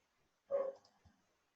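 A single dog bark or yelp sounds faintly from elsewhere in a home, with a softer low thump afterward and otherwise near silence.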